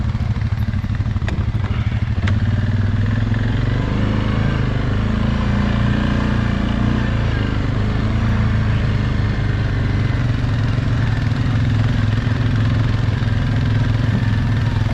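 Motorcycles ride along a mountain route from camp to a lake, engines droning steadily and loudly throughout with constant wind rumble and a couple of faint clicks, no talk.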